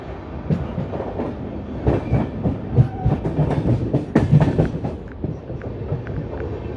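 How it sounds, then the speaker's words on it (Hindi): An Indian freight train rumbles past on a nearby track while a passenger train waits, wagons clattering with a rhythmic clickety-clack that stays steady and loud throughout. "इस तरफ हो रही है कोई मालगाड़ी क्रॉस।"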